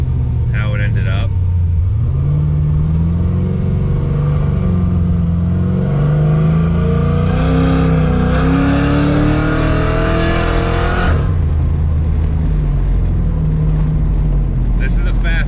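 Chevrolet Monte Carlo with an LSA supercharged V8 accelerating hard on a test drive, a loud rising engine roar climbing through the revs then dropping off, close and continuous with someone speaking over it.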